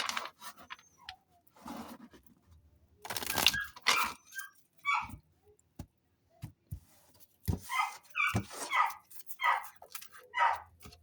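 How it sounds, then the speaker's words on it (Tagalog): A dog barks repeatedly nearby in uneven bursts, mixing sharp barks with yips and whines, with short pauses between volleys. "Yan, maingay ang aso namin."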